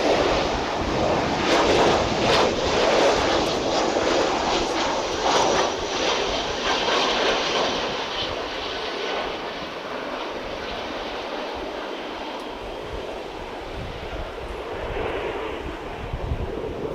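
American Airlines jet airliner coming in to land at DFW airport, a loud, steady jet roar close by that slowly fades over the clip, with some wind buffeting the microphone.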